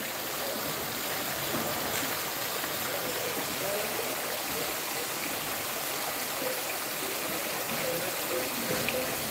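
A waterfall in a village setting pours and rushes steadily, a dense broadband roar of falling water filling the whole stretch without pause or change in level.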